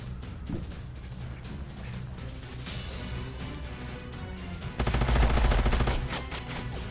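Weapons firing in Age of Wonders: Planetfall, a scattered volley of shots that swells into a dense, louder burst of rapid fire toward the end, with no talking.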